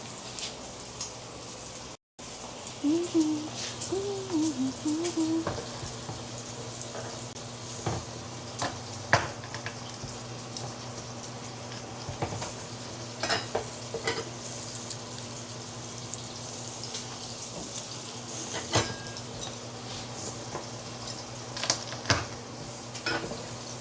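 Garlic fries and sizzles softly in a pan in a small home kitchen, a faint steady crackle broken by scattered scrapes and clicks of stirring.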